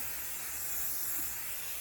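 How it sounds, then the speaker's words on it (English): A short continuous hiss of quilt basting spray from an aerosol can, steady for under two seconds, close by and alone. "take my quilt spray"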